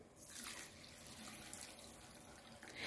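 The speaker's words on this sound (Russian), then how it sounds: "Заливаю его водой, обязательно промываем сначала." Tap water runs into a bowl to rinse a glass of rice, a faint, steady splashing stream lasting a few seconds without any voices.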